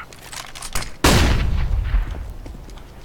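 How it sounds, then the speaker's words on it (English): A flashbang grenade goes off in Counter-Strike on the Dust 2 map, a small click followed by a loud sharp bang that rings out and decays over the next two seconds, with no talking. "Flashbang."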